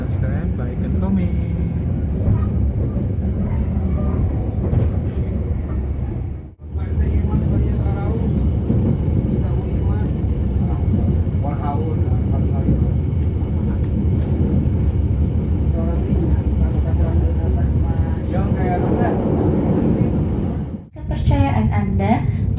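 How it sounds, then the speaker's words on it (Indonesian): An Indonesian commuter train at Cimekar station gives a loud, continuous rolling rumble with rail noise, dipping briefly twice, while people talk over it. "Kepercayaan Anda telah menggunakan jasa angkutan kereta api komuter Indonesia"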